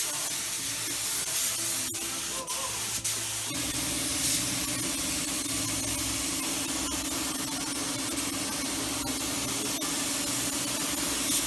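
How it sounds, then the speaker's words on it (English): A spray gun laying heavy primer coats with guide coat onto a car hood, giving a loud continuous hiss with a compressor-like hum underneath that throughout the clip. "We're gonna put 3 coats of heavy primer right here with the guide coat"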